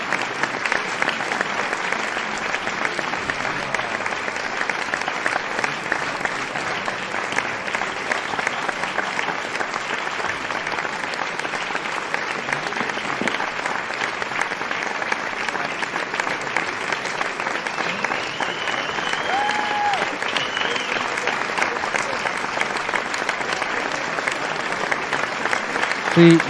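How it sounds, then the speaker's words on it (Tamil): A large live concert audience applauding, a dense, unbroken wash of clapping that holds at a loud, even level throughout, with a voice faintly audible underneath. "சாரதி டிவிஎஸ் ஒரு பெரிய கைத்தட்டலை அளிக்குமாறு அன்போடு கேட்டுக்கொள்கிறோம்."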